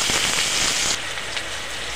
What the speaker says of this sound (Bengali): ফোড়নের মধ্যে দিয়ে দেবো আগে থেকে কাটা পেঁয়াজ